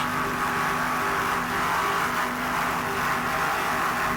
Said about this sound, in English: That Mercruiser power sounds excellent.